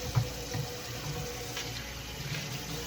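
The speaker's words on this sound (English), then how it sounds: "First, let me wash my hands." Hands are washed under a running kitchen tap, with a steady, soft splash of water and small shifts as the hands move through the stream.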